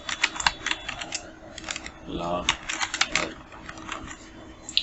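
Rapid clicking keystrokes on a computer keyboard while text is typed into graphic design software, irregular bursts of taps close up, with a voice speaking briefly in the middle.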